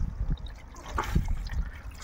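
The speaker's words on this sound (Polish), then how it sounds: "ja zlewam tą wodę" Water is poured off and strained from soaked pigeon feed, a close, low splashing trickle that swells and fades over a couple of seconds with no one talking.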